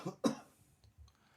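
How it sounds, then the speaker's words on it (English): A person coughs twice in quick succession, close and sharp, with a small throat-clearing rasp. A quieter breathy sound follows in an otherwise quiet room. "Cough."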